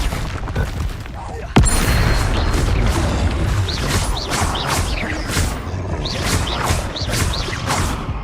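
Repeated Confringo blasting-spell explosions from the Hogwarts Legacy video game, loud booming bursts with whooshing and crackling debris, sounding in quick succession and at close range.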